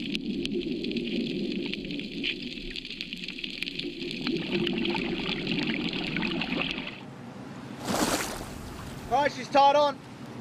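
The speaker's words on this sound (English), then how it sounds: "I have to use the boat motors to achieve this." Outboard boat motors drone steadily while straining to pull a sunken bomber engine weighing over a ton from the sand, the engine noise close and continuous before cutting out, followed by a brief splash and a short burst of voices.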